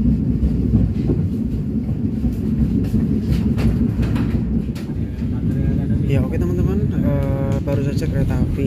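A passenger train departing a station rumbles loudly and steadily with low, continuous rolling noise, rhythmic clatter from the cars, and a brief squeal of wheels near the end.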